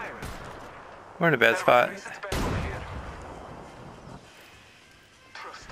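Gunfire bursts in an Apex Legends squad fight, a tight cluster of sharp game shots followed by a heavier blast and rumble, with a voice speaking over the action.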